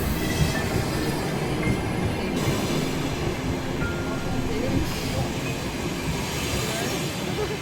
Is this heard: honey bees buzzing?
no